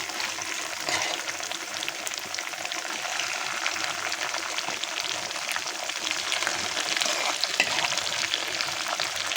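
Goat tripe fries in a pan with a continuous dense crackling sizzle, close and fairly even, broken by occasional faint scrapes and pops as the pieces are stirred.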